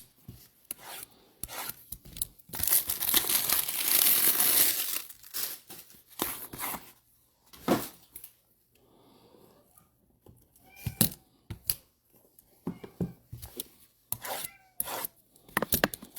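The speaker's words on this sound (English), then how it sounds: "Let's open up these case 1 cards." Baseball card pack wrappers are torn and handled up close, with a long burst of crinkling foil followed by scattered rustles, rubs and short tearing sounds, no talk.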